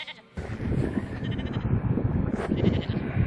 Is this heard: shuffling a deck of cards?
no